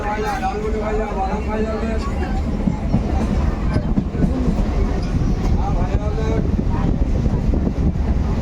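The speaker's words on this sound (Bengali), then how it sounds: "এদিকে আমরা ট্রেনে উঠে" A train near Ranaghat, West Bengal, rumbles steadily along the rails, a loud continuous roar with faint rhythmic clatter, while people talk nearby over it.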